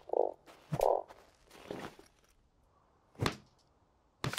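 A frog in the desert survival game Starsand gives two loud croaks close together near the start, then short thuds and quiet game ambience follow.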